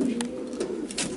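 Low, murmuring coos of young racing pigeons close by, a soft continuous warble with a few brief sharper noises mixed in.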